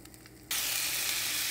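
Scallops go into hot oil in a pan and a loud, even sizzle suddenly bursts out, a dense close hiss that holds steady after the quiet moment before, with no talking.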